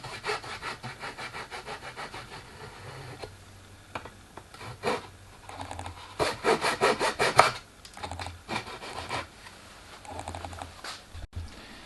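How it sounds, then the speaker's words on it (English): A fine-toothed razor saw trims thin wood strips in bursts of quick, rhythmic back-and-forth strokes, pausing between passes, close and clear. "And I did this with a razor saw."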